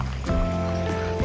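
Stream water flowing near carp swimming, a close, continuous gurgle and trickle with brief splashy bursts, fairly loud over the short stretch.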